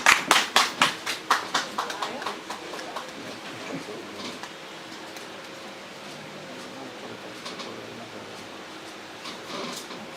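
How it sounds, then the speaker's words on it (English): Audience applause at a press conference: a burst of clapping from a crowd that fades over several seconds, followed by a quieter room with faint murmuring. "Round of applause for the National Bank."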